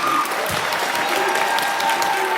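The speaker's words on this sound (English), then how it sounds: "And one more round of applause for our fully trained orchestra" A theatre audience at a high school musical production gives the orchestra a round of applause, a loud, thick burst of many hands clapping continuously and close.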